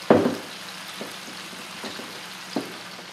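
Vegetables with salt, pepper and soy sauce in a pan give a soft, faint sizzle, broken by a few scraping stir strokes, the first one the loudest.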